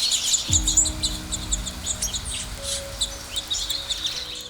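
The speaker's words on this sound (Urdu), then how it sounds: "الصبح چہچانا پرندوں کا ایک فطری رویہ ہوتا ہے" Birds chirping in the early morning, many small quick tweets and calls scattered high and bright over a faint background hum, with no voices.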